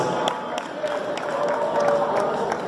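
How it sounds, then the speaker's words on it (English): An audience at a formal reception with the Ooni of Ife gives a sustained round of applause. It is a dense crowd wash of clapping and cheering heard from within the hall, with a faint tone under it. "the round of applause"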